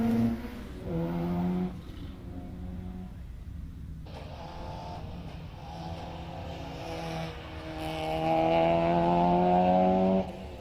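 A rare mid-1990s Renault Spider Trophy race car, built for a circuit racing series, climbs the Prescott hillclimb. Its engine note rises through the gears with brief shift breaks, then swells loudly toward the end.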